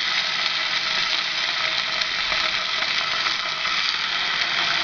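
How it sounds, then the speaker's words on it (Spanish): Stuffed chicken breast frying in a pan with a little oil, giving a steady, even sizzle that continues unbroken at moderate loudness with no voices. "Colocamos una sartén al fuego con un poquitico de aceite. Y encima colocamos la pechuga con la rellena."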